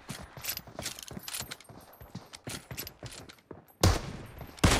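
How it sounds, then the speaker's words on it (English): Gun reloading in a video game: a busy run of mechanical clicks and clacks with gunfire-like bursts, ending in two loud, sharp blasts. "Reloading."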